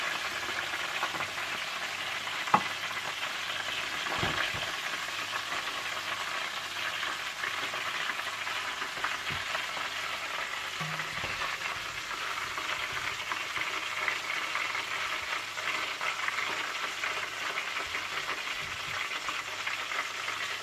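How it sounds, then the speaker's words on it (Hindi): Chicken drumstick lollipops frying in oil over low heat give a steady, dense sizzle that runs unbroken throughout, with one sharp pop early on and no voices. "हल्की आंच पर रखकर फ्राई करने के बाद आप इन्हें निकाल लीजिएगा।"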